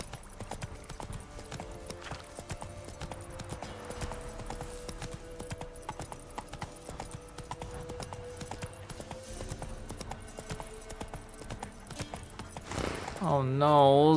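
A horse galloping in The Witcher 3 video game, with steady rapid hoofbeats running throughout, someone talking over them, and a louder swell near the end.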